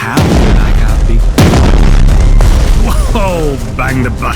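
US battleship guns shell a target in Strategic Mind: The Pacific, with a loud opening boom, a second heavy blast, then descending whistling shells and crackling explosions, all close and forceful.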